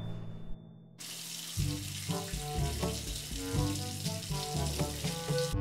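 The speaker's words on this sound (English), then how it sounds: "Now I'm going to shower, brush my teeth, wash my face, and do all my other bathroom duties." Water runs from a bathroom tap, switching on abruptly after a brief quiet start and then flowing as a steady hissing, splashing stream, close and fairly loud, with no talking.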